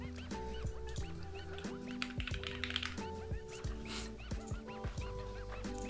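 Rapid clacky keystrokes on a mechanical keyboard with tungsten switches patter steadily and close, with sharp individual clicks and no talking.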